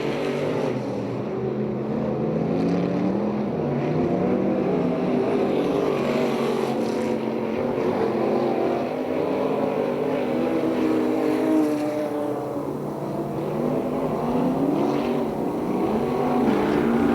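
Stock cars and midget race cars running laps on a race track at Perris, a steady, loud droning engine roar with rising and falling pitch as cars pass, continuous with no talk.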